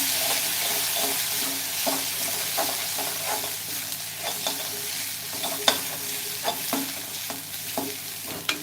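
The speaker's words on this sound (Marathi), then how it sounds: "आता हे सर्व मसाले ना चांगले भाजून घ्या" Spices roasting in hot oil for a cauliflower and potato curry, a steady close sizzle punctuated by repeated scraping taps of a spoon stirring the pan.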